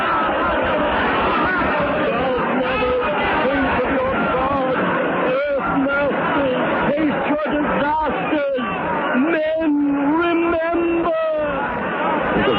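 A terrified mob in a radio drama, a dense hubbub of many agitated voices overlapping at close range, with shouts rising out of the babble and a steady roar underneath.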